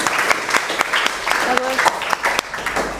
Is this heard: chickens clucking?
no